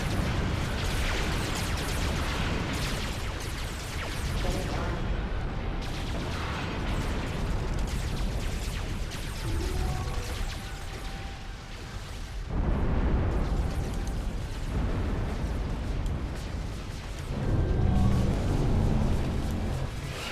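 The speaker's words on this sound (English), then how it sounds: "they're engaged in a firefight here." Explosions and weapons fire from a large army firefight in the real-time strategy game Ashes of the Singularity, a dense continuous barrage of booms and bursts with heavier swells near the end, no talking.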